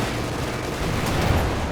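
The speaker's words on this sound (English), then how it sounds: "Panzer IV gets a shot off while the T34 shot was in mid-air, and they both end up dying." Tank cannon fire from a Panzer IV and a T34 in the strategy game Company of Heroes 2, a dense burst of booming gunfire and impacts layered over constant battle noise, with sharp cracks near the end.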